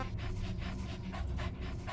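D-Dog, the canine companion in Metal Gear Solid V, pants in quick steady rhythmic breaths, close and continuous throughout without any talk.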